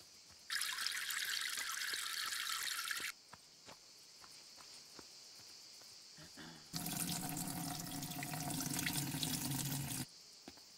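A garden hose sprays water onto plants in the farming game EverDream Valley, as two long hissing bursts with a short gap between them, over faint cricket chirps in the background.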